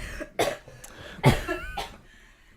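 A few quiet coughs in quick succession, close by, with a brief throat sound between them.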